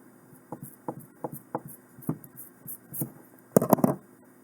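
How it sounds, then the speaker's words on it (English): Scissors trim the tag end of paracord while bucktail jigs are being made, giving a few close, sharp snips in a quick irregular series that end in a louder burst of clicks, with no talking. "If my scissors will cooperate now."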